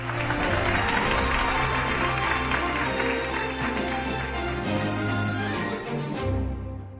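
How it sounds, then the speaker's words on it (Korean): Audience applause greeting a lawyer speaker at a copyright forum: steady, dense clapping from a crowd, loud and sustained throughout, with faint music or background tones underneath. "자, 힘찬 박수로 우리 변호사님을 모셔보도록 하겠습니다."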